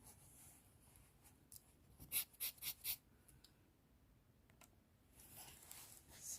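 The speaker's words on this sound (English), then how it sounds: "I'll mark it round, okay, round the fabric like so." Faint scratching strokes of a marker tracing a circle onto satin fabric for a reversible ruffle bonnet, a quick cluster of short rubbing marks standing out against near-silence.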